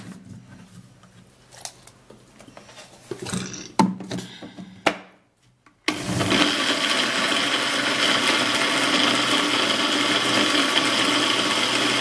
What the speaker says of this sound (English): I'm going to be putting just a little bit of water in this to blend it out